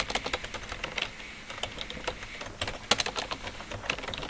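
A URL is typed on a computer keyboard, quick, light key taps in uneven bursts with brief gaps, close-miked and fairly quiet, with no talking.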